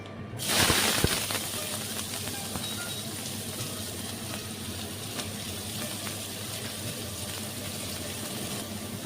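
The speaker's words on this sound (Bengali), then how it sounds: "এবার আমি এতে দিয়ে দেবো পেঁয়াজ কুচিতে" Chopped onion dropped into hot oil with dry red chilli and cinnamon, a sharp burst of sizzling at the start settling into a steady, close, dense frying hiss that continues alone.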